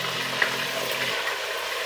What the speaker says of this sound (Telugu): ఇది బాగా వేయించుకునేద్దాం.